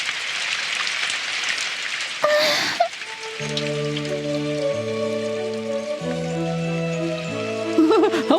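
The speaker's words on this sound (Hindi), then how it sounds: "हाँ, बारिश बारिश हो रही है डैड।" Steady rain pours in a Doraemon cartoon, a dense hiss throughout, joined midway by a sustained tonal musical chord that swells under the continuous downpour.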